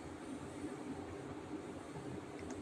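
A Vande Bharat Express train starts moving, heard from inside the carriage as a faint, steady low rumble and hum with no distinct clacks.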